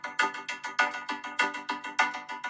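Folk-style percussion loop in a music production, a steady bright clacking pattern of short hollow hits with regular accents, close and fairly quiet, no voices.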